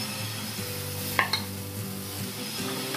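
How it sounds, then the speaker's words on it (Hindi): Dosa batter poured onto a gently heated tawa over a low flame, a soft continuous sizzle with a couple of brief metallic scrapes and clinks near the middle, close by and with no talk. "अब इस पे हम डालेंगे बैटर"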